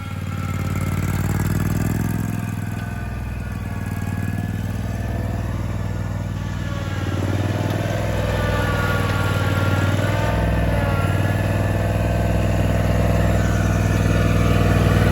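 A zero turn lawn mower engine revs up, a loud continuous motor drone that rises gradually in pitch and intensity, close by with no talk.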